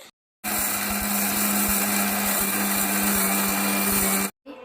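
An electric mixer grinds homemade uggu baby food, a loud steady whirring drone that starts abruptly after a brief silence, runs about four seconds and cuts off.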